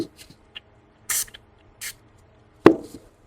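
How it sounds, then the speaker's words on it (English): Several short hissing bursts of mold release spray into a tight mold, close by, spaced with pauses, followed by a soft knock and a brief clatter. "I'm going to definitely spray down in here,"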